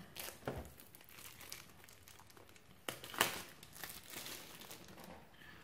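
A Terminator Genisys trading card pack wrapper is torn open by hand, giving soft, steady crinkling and crackling plastic with a brief sharper rip near the middle, close up and with no talking.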